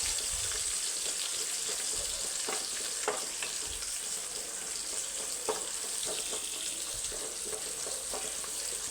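Ingredients for beef papaitan are stirred in a pot, with a steady sizzle and scattered scraping clinks of the spoon, close and continuous without talk.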